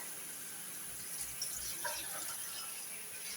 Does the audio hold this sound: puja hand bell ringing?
no